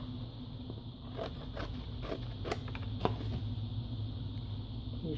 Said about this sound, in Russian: Здесь дальше аккуратно подрежем ножницами.